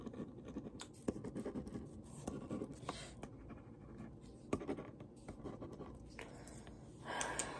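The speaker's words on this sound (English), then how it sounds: "I'm just going to write something up." A pen scratches across paper in short strokes and taps, quiet and close, with irregular scribbling bursts and small pauses between words, and no talking.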